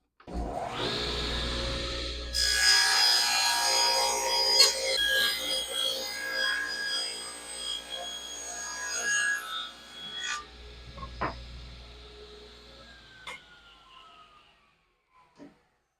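A Delta table saw cuts a piece of wood: the motor spins up with a high whine, the blade rasps and screams through the board for several seconds, then winds down and fades to silence.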